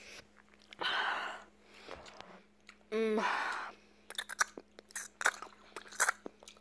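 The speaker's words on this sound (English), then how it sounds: "My brother eating some grapes." Grapes being chewed close up: moist crunching and squelching bites in several short bursts, with a faint steady hum underneath and brief clicks of the mouth.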